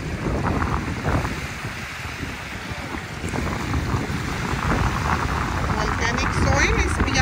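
Steady wind buffets the microphone on the shore of Lake Taupo, New Zealand, over the broad rushing wash of lake water, loud and unbroken throughout.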